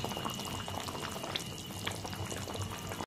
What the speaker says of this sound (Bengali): এখন ঝোলটা ফুটছে।